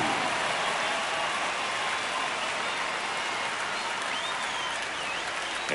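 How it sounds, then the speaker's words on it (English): A baseball stadium crowd in a video game broadcast of the Kansas City Royals against the New York Yankees roars and applauds in a dense, continuous wash of cheering at steady volume. "The crowd is amped up, ready to get this season underway"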